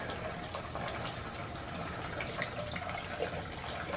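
A 24:1 oil-and-gas mix is poured into the fuel tank of a Shriners mini bike, giving a faint, steady trickling fill with small splashy bursts and no speech.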